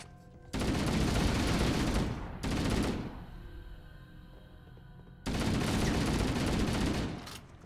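Loud shotgun blasts and bursts of gunfire in Halo Combat Evolved Anniversary come in three heavy volleys, separated by quieter gaps of game ambience.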